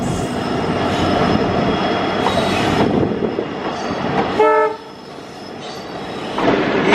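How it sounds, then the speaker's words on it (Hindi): The Veraval Bandra Saurashtra Janata Express passes close by on the line in India, a loud rumbling roll of wagons and wheels with a short horn blast midway before the rumble continues. "इस ट्रेन की वजह से हमें रुकना पड़ा।"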